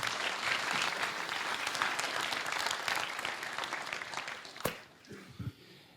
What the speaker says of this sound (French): Donc, merci de l'applaudir.